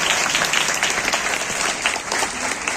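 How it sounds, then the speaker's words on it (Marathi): A large audience at a women's government training institute gathering applauds loudly, a continuous, dense roar of clapping hands that holds steady from start to finish. "एकदा जोरात टाळ्या होऊन जाईल."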